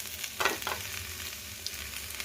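Chicken and vegetables sizzling in a pan as tomato goes in, a soft steady frying hiss with a brief louder splash of sizzle early on.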